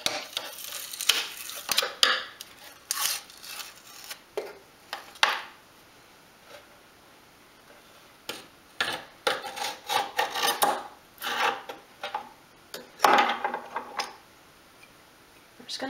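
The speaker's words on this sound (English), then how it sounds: "I'll start down here again with the chisel." A chisel scrapes and pries at glued wooden parts inside a dolls house being stripped back to bare wood, giving quiet intermittent rasping strokes in short bursts separated by pauses, with no talking.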